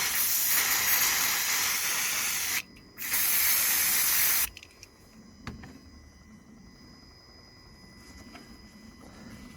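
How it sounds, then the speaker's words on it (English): Carb cleaner sprays onto a rag beside the engine compartment of a Honda Civic MK8 during throttle body cleaning. Two loud, close hissing bursts sound, the second short, and then quiet background remains. "the carb cleaner on a rag"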